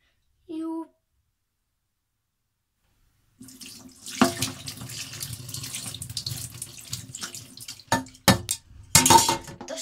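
Running water pours from a shower after swimming, starting partway through with splashing surges and a few louder bursts, close by; a short voice is heard before the water begins.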